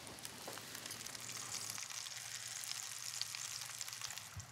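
Zucchini frying in a pan, a faint, steady hiss of sizzling oil with light crackles running continuously, no talking.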